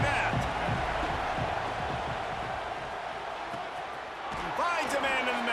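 Stadium crowd cheering throughout a game in EA Sports College Football 26, a loud, steady roar with swells, running under a commentator talking.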